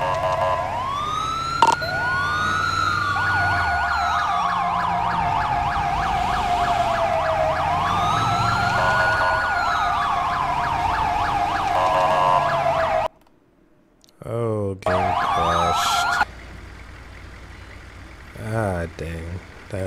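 A Ford F-450 San Andreas Fire Department ambulance in GTA 5 sounds its siren while responding to a call, wailing and switching to rapid yelps, with someone talking over it.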